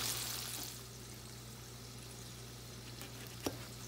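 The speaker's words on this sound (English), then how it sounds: "I just put that one down in the grease." Pork ribs deep frying in grease make a quiet, steady sizzle with a low hum underneath and one small pop near the end.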